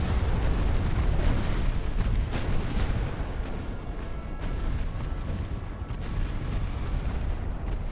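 Heavy warship guns boom without pause during a naval battle in the game Ultimate Admiral: Dreadnoughts, the dense rumbling barrage steady and loud for the whole stretch, with no voices.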